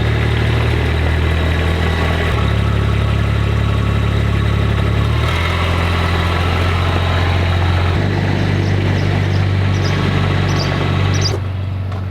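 Vehicle engine idling and shifting pitch while backing up on a farm, a loud, steady close rumble with a couple of step changes in tone before it cuts near the end.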